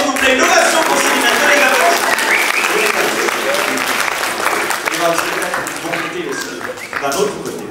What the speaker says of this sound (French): on l'applaudit très fort, s'il vous plaît. Une ovation pour Céline.